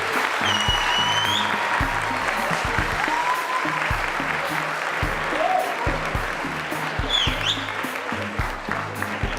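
Sustained applause from a crowd at a student mini-enterprise fair award ceremony in Montpellier, steady clapping throughout with a few brief whistles cutting through.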